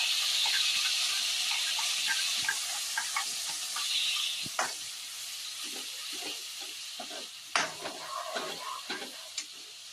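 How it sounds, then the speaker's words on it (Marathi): Ground masala paste frying in oil in a pan: a soft continuous hiss and sizzle up close, punctuated by scattered spatula taps and scrapes, quiet overall and with no speech. "आता वाटण आपण चांगलं तेलात परतवून घेऊ."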